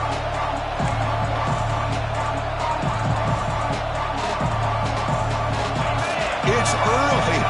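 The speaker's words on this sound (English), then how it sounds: "It's early, but this crowd is fired up. Listen to this noise here." A loud, steady stadium crowd roars and cheers throughout, a dense wall of noise with a commentator-like voice talking over it.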